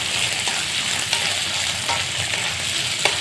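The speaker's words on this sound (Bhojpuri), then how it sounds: "चना को थोड़ा सा प्याज के साथ भूज दे देते हैं।" Chickpeas fry with onion in a pan for a desi-style nenua and chana sabji made without tomato. A steady, close sizzle runs throughout, broken by a few light clicks from stirring.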